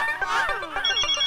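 A phone ringtone sounds in a scene from the Indian TV sitcom Taarak Mehta Ka Ooltah Chashmah, playing bright melodic electronic phrases with gliding tones. It is close, clear and carries on steadily.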